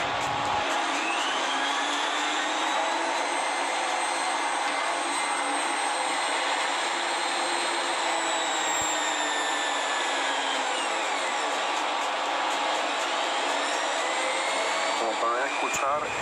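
Flexible shaft grinder used for porting and polishing, its motor running with a steady high whine that holds for the whole stretch, close and fairly loud, with small pitch shifts as speed changes.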